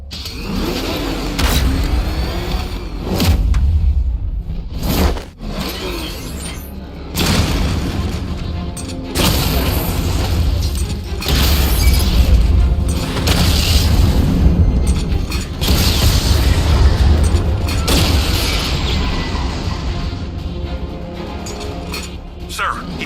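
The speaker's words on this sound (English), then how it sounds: "Your 60mm cannon will penetrate these heavily armored units" A 60mm cannon fires in the video game Batman: Arkham Knight, with heavy booming blasts and rumbling engine noise, repeated loud impacts and voices talking over the continuous roar.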